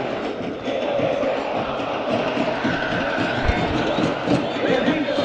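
Dense roar of a football stadium crowd greeting San Martín and Sportivo Belgrano at a key match, with steady applause and cheering throughout and a single sharp low firecracker bang midway.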